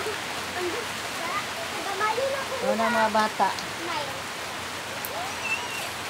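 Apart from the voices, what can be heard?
rain falling outside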